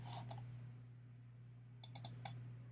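A computer mouse double-clicks: one faint click near the start, then a quick pair of sharp clicks followed by another, close and crisp over a low steady hum.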